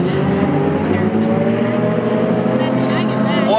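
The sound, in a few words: hornet class race cars racing on speedway track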